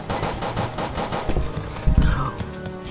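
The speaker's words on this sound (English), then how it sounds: "Oh god, he's shooting me." Rapid automatic gunfire from a shooting video game rattles in a dense burst, loud and close, followed by a couple of heavier thuds.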